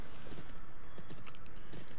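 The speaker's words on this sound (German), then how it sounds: "Ich benutze jetzt das Reittier, das leichte Pferd." A light horse mount in the online game Champions of Regnum trots with a steady clip-clop of hooves, set against a dense bed of continuous game ambience.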